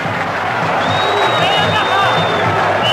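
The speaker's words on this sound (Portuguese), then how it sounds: "Também a reação da torcida do Fluminense é aplaudir o Josafá." Fluminense supporters in a Brazilian football stadium applaud player Josafá, a dense, steady crowd roar with clapping and scattered whistles over a commentator talking throughout.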